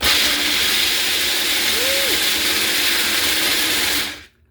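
A new large food processor crushes nuts for homemade Nutella, giving a loud, steady, whirring motor roar that runs continuously and then cuts off abruptly near the end.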